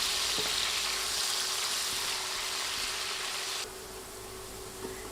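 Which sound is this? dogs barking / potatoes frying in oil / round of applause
potatoes frying in oil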